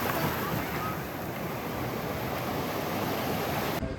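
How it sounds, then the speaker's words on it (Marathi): Sea waves at the beach in Ganpatipule roll in as a continuous broad wash of surf with wind noise on the microphone. "लाट येणार रे बबल्या"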